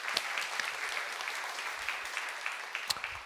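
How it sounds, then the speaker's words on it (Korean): A church congregation claps for a member who stayed late preparing the program, a warm, even round of applause heard at a moderate distance with a few sharper individual claps standing out. "박수 한번 해주십시다."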